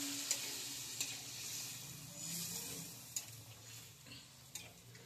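Tengra fish curry with water added simmers in a pan over oily spices, a soft steady sizzle and bubbling with a few sharp ticks from stirring, close and fairly quiet throughout.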